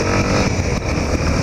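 Yamaha Ténéré motorcycle riding on an open road, a steady, dense engine and road roar filling the whole moment without a break or any voices.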